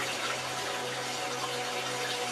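A water fountain in a desert oasis runs in a steady, soft, continuous splash and trickle, even and unbroken from start to finish with no voices.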